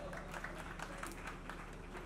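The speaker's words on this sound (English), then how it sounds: "Please put your hands together for Barrister Stella." A crowd at an annual foundation thanksgiving event applauds faintly, a dense distant patter of many hands that holds steady with a murmur of voices underneath.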